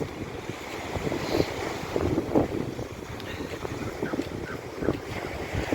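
Steady cold wind rushing across the microphone with Black Sea surf washing in the background on an empty beach in Odesa, a continuous blustery roar with occasional louder gusts.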